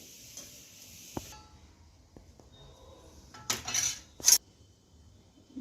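A spoon clinks and scrapes in a bowl while bottle gourd muthiya dhokla dough with yogurt is mixed: a few sparse taps, then two short clattering bursts of stirring near the end.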